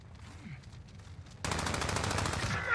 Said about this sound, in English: That's the worst shooting I've ever had.